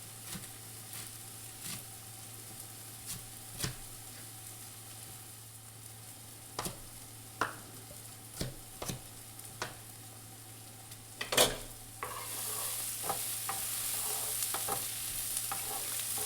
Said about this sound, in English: Give your onions a stir from time to time.